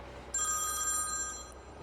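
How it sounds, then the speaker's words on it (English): A mobile phone rings outdoors with a bright electronic tone that sustains for over a second before cutting off, clear and close with no talk over it. "My phone's ringing."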